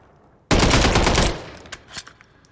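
A CZ BREN rifle fires a sharp automatic burst lasting nearly a second in Call of Duty Modern Warfare III, followed by a decaying tail and a few fainter echoing shots.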